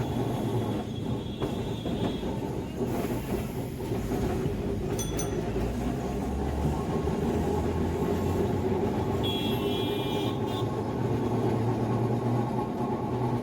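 A Kolkata tram runs from Esplanade to Gariahat with a loud, continuous rumble and rattle of wheels on rails, and brief high squeals cut through now and then.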